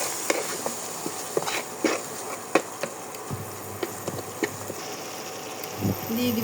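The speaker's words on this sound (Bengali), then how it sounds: "এখন এটা সুন্দর করে মিক্স করে নেব।" A spoon stirs garlic, cumin and ginger paste in a pan for an egg masala curry, making soft scraping, irregular taps and a faint sizzle, with a low hum in places.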